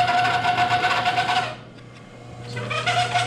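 A late 1800s Singer sewing machine runs on a belt-driven motor, a loud close steady whirring hum that drops away briefly in the middle and then spins back up.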